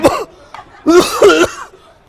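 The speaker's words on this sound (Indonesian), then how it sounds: "Kenapa lu batuk-batuk?" A couple of harsh, close coughs, a short one and then a longer rough burst, loud and alone without talk.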